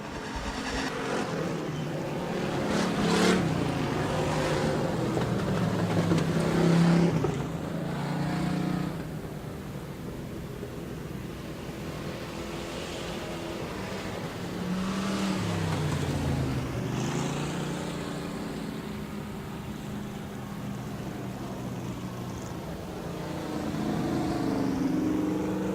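Sportsman class stock cars race a heat at Rapid Speedway, engines roaring past in repeated swelling and fading waves, with revving and doppler sweeps as cars pass and recede over a continuous track din.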